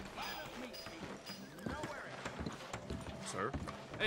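Horse hooves clip-clop steadily in Red Dead Redemption 2 as a horse moves along, mixed with game ambience and voices speaking over them.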